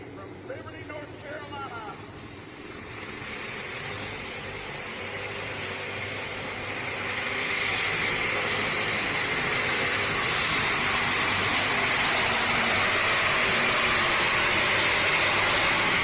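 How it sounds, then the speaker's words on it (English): At a tractor pull, a pulling tractor's engine roars loud and close, its whine climbing steadily as the wheels spin faster and the noise swells toward the end, with a commentator talking over it. "Take a look at the wheel speed of this tractor."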